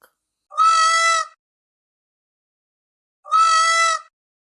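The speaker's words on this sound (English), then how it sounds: "peacock" A peacock calling: two loud, clear, drawn-out wailing cries, each under a second long and separated by a few seconds of silence.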